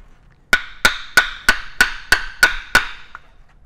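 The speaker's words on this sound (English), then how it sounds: "I pry up the edge of the leather here so that I can get this tapered dowel driven in along the top." A tapered dowel is hammered into a leather holster with eight evenly spaced, sharp, ringing blows. Each strike is loud and close and fades quickly before the next, followed by a faint final tap.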